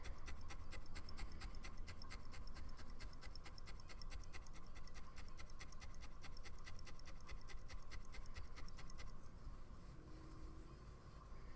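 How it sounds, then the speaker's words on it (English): Continuous dry scratching and rasping as a fingernail scrapes across needle-felted wool, steady and close for about nine seconds before easing into quieter rubbing. "That's definitely why I'm scraping it with my fingernail."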